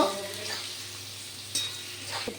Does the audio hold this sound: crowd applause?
no